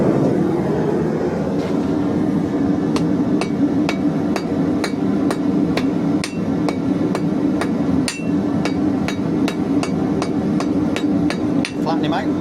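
A hammer strikes hot 16mm metal held in a bench vice, ringing in a steady run of evenly spaced blows about every half second, over a loud roar from a blow lamp.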